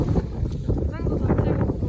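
Strong gusty wind buffets the microphone on a coastal walking trail in Jeju, a loud rumbling roar that swells and fades, with people talking underneath.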